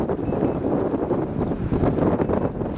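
Strong wind buffets a small boat moving on a river, a loud continuous rushing roar with gusty fluctuations and no voices.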